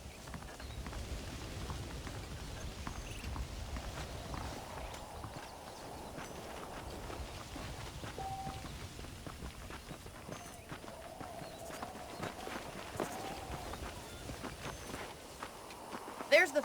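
Horse hooves clip-clop steadily on the ground in the Red Dead Redemption video game, a continuous walking rhythm with faint ambient background and occasional voices.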